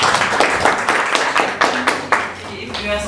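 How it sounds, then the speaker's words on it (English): Audience clapping at an official launch event, a continuous crowd of hands applauding loudly and close with a few sharper claps standing out, and a voice briefly heard near the end. "We can give a better clap."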